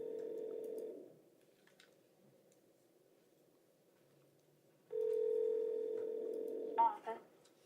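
A telephone call placed from a courtroom rings out in two long steady tones separated by a pause, thin and moderately quiet, the second ending with a brief click as the line picks up.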